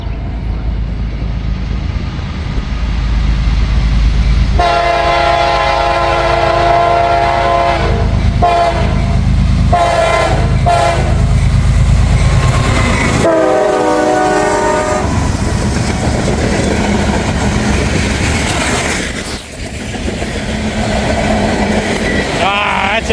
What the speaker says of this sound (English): the final train here for me in Carlisle